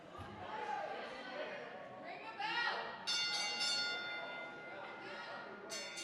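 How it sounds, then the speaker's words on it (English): A ring bell sounds several times to start a heavyweight championship wrestling match, clanging over a crowd's chatter while a commentator talks. "And the ref calls for the bell"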